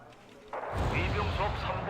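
Heavy artillery fire in a wartime strategy game: a sharp onset of rumbling booms and overlapping blasts, loud and sustained, with a voice talking faintly underneath.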